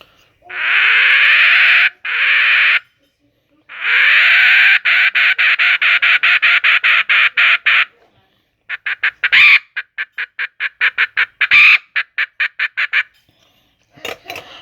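A shrill, reedy one-hole bird-call lure imitating a female quail sounds in long sustained blasts, then a fast series of short chirping pulses, loud and close with no talking.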